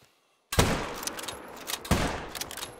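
A hunting rifle fires in theHunter: Call of the Wild: after brief silence, two loud booming shots about 1.4 seconds apart, each with a long rolling echo fading across open terrain.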